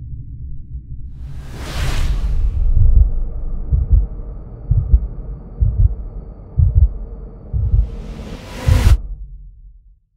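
Heartbeat sound effect: a whoosh sweeps in, then a run of deep, loud lub-dub thumps beats at a steady rhythm over a low hum before a second whoosh closes it out.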